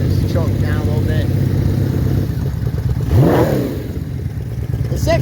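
The first production six-cylinder motorcycle engine runs with a dense, steady mechanical hum and a sharp rev that rises and falls midway, recorded close up.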